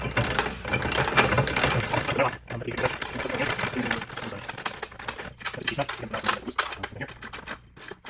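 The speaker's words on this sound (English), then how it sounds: "I can get my wrench, in there to hold the end of the nut on the inside side. And then tighten this down." A wrench tightening a nut onto a bolt while assembling a shore ramp: rapid ratcheting clicks run almost the whole time, close and fairly loud, with a short pause partway through.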